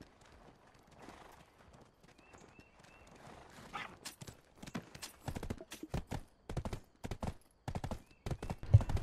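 Horse hooves clip-clop in Black Desert Online, a steady run of sharp, close hoofbeats that grows louder and more regular over the second half, with a faint whinny-like tone early on.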